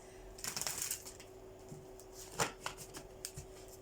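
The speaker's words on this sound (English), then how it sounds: "It's like I can't even cut the deck in the right place." Riffling and cutting of a card deck during a tarot-style reading, a close run of soft papery shuffles and quick slaps with a hum underneath.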